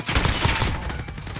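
Rapid bursts of PP90M1 submachine gun fire in a Shipment match of a shooter video game, loud and close, a fast rattling volley that trails off over about a second.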